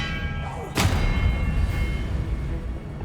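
Expelliarmus disarming spell in Hogwarts Legacy, a sharp single thud-like impact with a bright whoosh, followed by a lingering low rumble, close and moderately loud.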